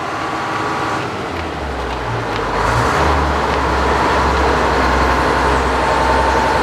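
A Frick sawmill engine runs close by in a steady, heavy rumble that shifts in tone as it is slowed down before shutdown.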